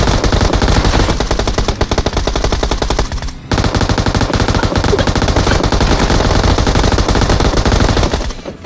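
Groza assault rifle fire in a battle royale video game, loud rapid automatic bursts that run almost without a break, with one short pause before the shooting resumes.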